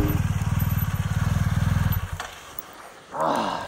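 An enduro motorcycle is ridden off-road, its engine throbbing in a steady fast pulse for about two seconds before dropping away, leaving quieter rustling and then a brief rise of noise.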